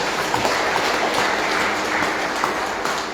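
Devotees at a Srimad Bhagavad Katha gathering in Fiji clapping together, a loud, sustained wash of applause from a large crowd without pause.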